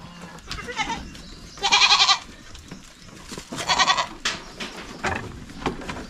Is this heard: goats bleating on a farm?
yes